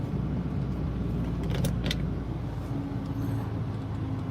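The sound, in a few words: Buick Grand National car passing by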